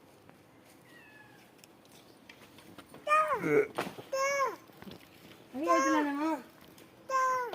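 A cat meows several times in drawn-out, wavering cries with short pauses between them, quite close, while a person speaks briefly in between.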